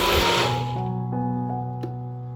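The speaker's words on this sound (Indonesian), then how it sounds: "Blender semua bahan bumbunya sampai benar-benar halus." An electric blender grinds spice paste ingredients for an Indonesian base seasoning, its motor whining loudly up close at first and then winding down to a steady hum, with no voices.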